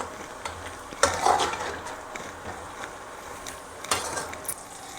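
A spoon stirs garam masala into dhaba-style paneer butter masala gravy in a pan, making soft scraping and faint sizzling with a couple of sharper clinks against the metal.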